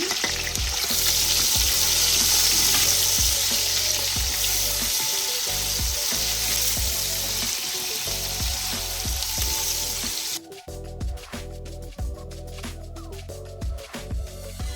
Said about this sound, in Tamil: பிரியாணியில் இதெல்லாம் போட்டு நாங்கள் லைட்டாக வதக்கிட்டு வெங்காயத்தை போடுறோம்